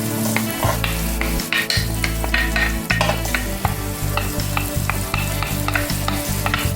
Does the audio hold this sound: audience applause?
no